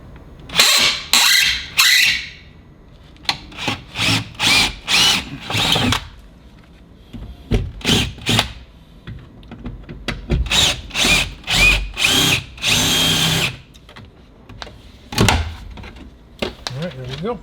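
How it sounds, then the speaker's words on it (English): A power drill fitted with a brand new, inexpensive drill bit bores into a Volkswagen Atlas door panel. The drill runs in repeated loud bursts of whirring and grinding, with short pauses between them, and someone talks briefly near the start. "now we're gonna use a brand new drill bit"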